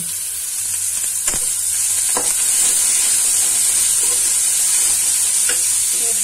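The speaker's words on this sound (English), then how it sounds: "So I've added the onions and garlic, and now I just saute it" Onions and garlic sauté in a pan for momo filling, giving a loud, even hiss of frying with a few soft knocks from stirring, no voices.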